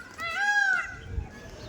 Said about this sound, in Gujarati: જો મોર બોલે